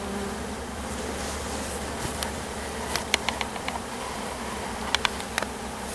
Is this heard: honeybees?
yes